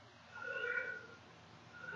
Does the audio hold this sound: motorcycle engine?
no